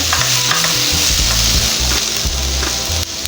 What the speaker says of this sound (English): I'm just going to let it just kind of saute a little bit because I don't want the vegetables to be too soft